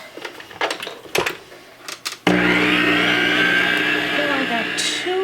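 Bread crumbs being worked into a bacon cheeseburger meatloaf mix: a few scattered clatters and bumps, then a loud steady motorized whir starts abruptly and runs to the end.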